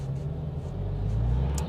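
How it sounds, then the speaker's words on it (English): Road noise inside a Porsche 992 on a bumpy, uneven road: a steady, loud low rumble with a faint rattle of vibration near the end, and no voices. "as I'm going over sort of bumpy road and uneven road, then it does seem that you can hear a few vibrations"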